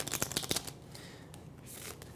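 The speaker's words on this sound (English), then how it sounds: "So we're just going to go ahead, give this a little shuffle." A deck of question cards gets a quick shuffle, a short burst of crisp riffling flutters in the first half-second, then quiet rustling trails off.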